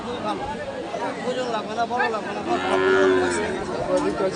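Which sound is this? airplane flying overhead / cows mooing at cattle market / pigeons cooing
cows mooing at cattle market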